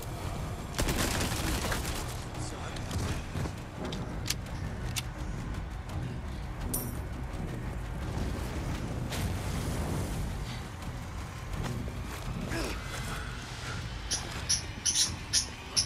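Cannon fire and explosions in Resident Evil 4 bring a series of booming blasts and rattling gunfire over a busy, rumbling combat background, with sharp higher clanks and hits toward the end.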